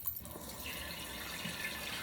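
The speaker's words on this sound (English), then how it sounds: "I pour the old water off and put new water" Water running steadily into a flower vase, a soft continuous pouring trickle heard close and fairly quiet, with no talking.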